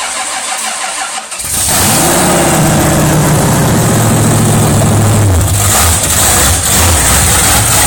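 A 383 small-block engine with TPI fuel injection cranks and catches after about a second, then runs with a loud, steady, slightly lumpy idle up close, with no talking.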